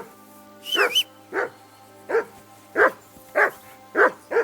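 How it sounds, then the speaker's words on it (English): A dog in Kingdom Come: Deliverance II barks repeatedly, seven sharp, evenly spaced woofs close by with a brief yelping whine near the start, no talk over it. "Henry, that barking's driving me nuts"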